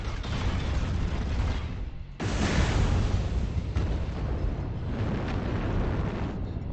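Booming artillery strike blasts in the game MechWarrior Online, a thick continuous roar of explosions with a sharp fresh burst partway through, loud and near.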